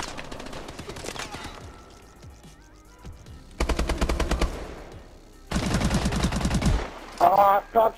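Bursts of rapid gunfire, likely from a video game, come in two loud sustained volleys of roughly two seconds each, preceded by quieter game sounds and followed by a short sharp burst near the end.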